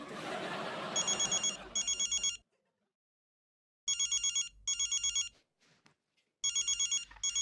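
A telephone rings in repeated double trills, pausing in silence between rounds, with a brief burst of noisy voices at the start.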